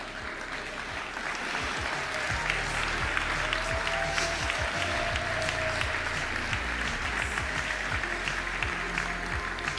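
Sustained loud applause from a graduation ceremony audience honoring graduates, dense steady clapping filling the hall with a few voices underneath throughout.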